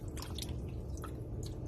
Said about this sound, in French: Pareil ici, je suis en train de rincer. Enlever l'excès de gras. Bien rincer la peau.